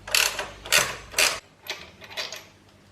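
A ratchet works loose 12mm bolts on a B&B Off Road bash plate fitted to a Tenere700 motorcycle, giving three loud, close bursts of clicking followed by several fainter, shorter ones.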